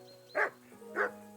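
A dog in Kingdom Come Deliverance 2 barks twice, with about half a second between the barks, at moderate distance over a steady low hum of background ambience.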